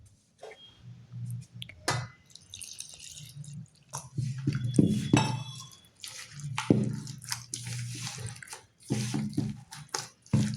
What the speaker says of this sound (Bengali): এবার জল অল্প অল্প করে দেব আর চালের আটাটা মাখতে থাকবো।